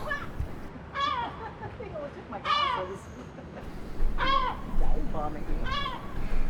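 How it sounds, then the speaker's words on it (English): A seagull dive-bombing over old fortress walls in Ceuta, giving four loud, repeated wailing calls spaced about a second and a half apart over wind and outdoor background noise. "a seagull that was not happy with our presence at all and started dive bombing us to get us to clear out of the area"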